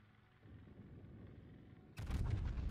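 Yamato battleship main guns firing in World of Warships: a deep, booming salvo rumble that swells suddenly near the end over a low steady background, heard alone and fairly quiet.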